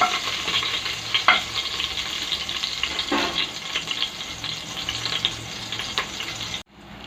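Green chillies and onions fry in a pan for a village-style vegetable pulao. A close, steady sizzle runs throughout, broken by occasional stirring scrapes, before cutting off suddenly near the end.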